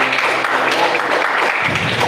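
Brief burst of clapping from a church congregation applauding Jesus during a Portuguese-language worship gathering, a steady wash of many hands for about two seconds.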